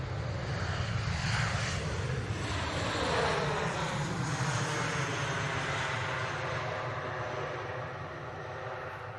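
An airliner lands at Manchester Airport with a slightly firm touchdown, its jet engines roaring loud and steady throughout, with broadband rumble and wind noise that fade gently near the end.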